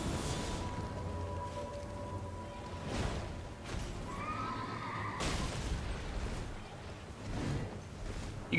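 A horse in a video game gives a faint neigh and whinny amid game effects, whooshes and low booms, all fairly quiet.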